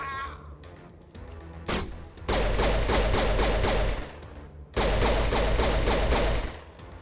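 Video game gunfire comes in two long, loud bursts of rapid automatic shots, split by a short lull with scattered single cracks. It sounds close and harsh, with faint speech under it.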